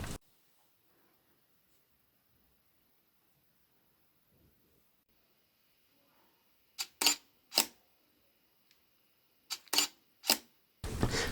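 Camera shutter fired with an external remote release button on a camera mounted to a microscope: about six sharp, loud mechanical clicks in two clusters after a long quiet stretch.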